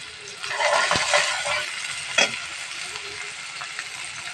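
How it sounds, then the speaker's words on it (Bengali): Prawns sizzle and crackle in a hot pan, the frying swelling loudly and then easing off, with a couple of sharp stirring clinks against the pan and no talking. "চিংড়ি মাছটা সুন্দর করে ভেজে নেব"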